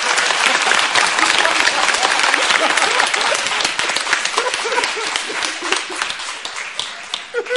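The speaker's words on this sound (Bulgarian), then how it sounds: "Моля, аплодисменти за господин Рахнев." A crowd applauds Mr. Rahnev at a stage performance, loud dense clapping that fades a little toward the end, with some voices mixed in.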